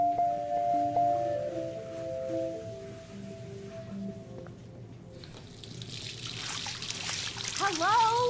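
In the Life Is Strange video game, soft music gives way to running water streaming like a tap. A voice talks over the water.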